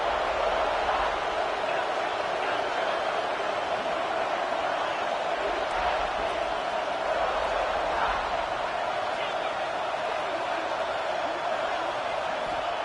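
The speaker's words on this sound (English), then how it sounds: "Listen to the crowd energy here in the early going." Continuous stadium crowd roar from the NCAA 25 college football video game, a broad steady wash of cheering at a loud, even level throughout, with no distinct voices standing out.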